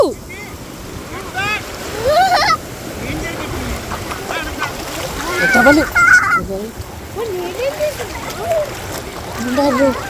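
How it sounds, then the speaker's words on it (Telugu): Sea waves splash and wash in at Antarvedi Beach, with surges of surf mixed with wind, while people talk and call out loudly over much of the water sound. "కెరటాలు"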